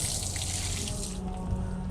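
Water swishes and sloshes as a car wash mitt is squeezed and massaged at the bottom of a rinse bucket, a close, brief watery churning with no talk.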